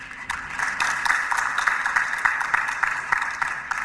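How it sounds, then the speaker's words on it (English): Applause from the room at a business forum, a moderate crowd clapping steadily with individual claps audible throughout, fairly close and even in level. "he deserves a round of applause from the room"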